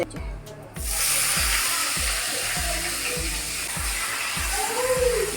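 Dried red chillies hit hot oil with a sudden loud sizzle that continues as a steady, close frying hiss, with faint clinks and a low rhythmic thud underneath.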